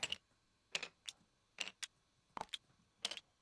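Board game tiles from The King's Dilemma are shuffled by hand, making a quick run of crisp, close plastic clacks in irregular bursts against a quiet background.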